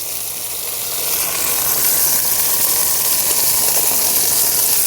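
Chicken pieces hit hot oil with sautéed tomato and onion for a village-style chicken gravy, producing a loud, steady broadband sizzle and hiss that swells after the first second and holds, with no voices.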